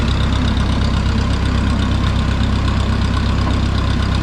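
An old farm tractor engine runs steadily and loudly throughout, a continuous low idling rumble with a dense even drone and no talk over it.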